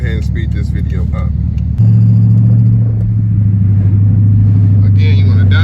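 A 5.7 Hemi engine growls loudly at close range, its deep rumble jumping in pitch and holding steady as it downshifts and revs, with someone talking over it.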